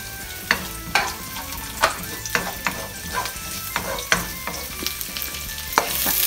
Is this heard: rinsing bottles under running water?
no